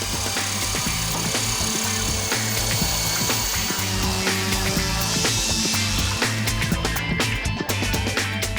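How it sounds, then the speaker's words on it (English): A power sander runs across tapered wooden plugs, smoothing them flush on a staircase rebuild, giving a continuous loud buzzing grind with rapid rattling scrapes throughout and no talk. "And then clean them up with the sander."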